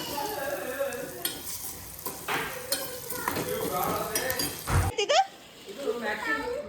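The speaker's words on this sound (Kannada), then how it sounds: "ಒಗ್ಗರಣೆ ಕೊಡ್ತಾ ಇದ್ದಾರೆ ಬೆಳ್ಳುಳ್ಳಿ ಸಾಸಿವೆ ಜೀರಿಗೆ ಕರಿಬೇವು" Oil sizzles and crackles steadily in a pan with garlic, mustard seeds, cumin and curry leaves while a spoon stirs, with people talking and a voice over the frying.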